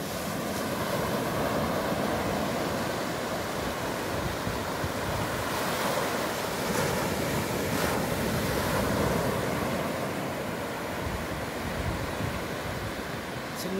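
Sea waves wash steadily onto a clean Andaman beach, a continuous broad roar of surf with wind buffeting the microphone throughout, no voices.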